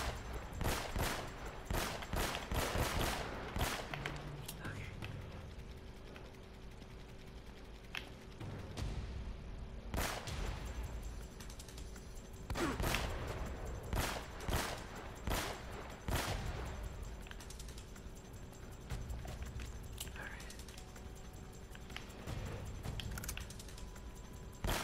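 Video-game gunfire in Uncharted: Drake's Fortune Remastered, with sharp, loud shots fired in irregular bursts and clusters, some quick volleys and some single cracks, separated by short lulls of quieter ambience.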